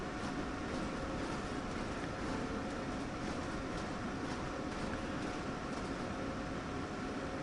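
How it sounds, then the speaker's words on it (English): An electric train running in Train Sim World 3 on PS5, a steady hum and rumble of the moving cab that holds constant throughout with no voices. "This is an electric train we're in."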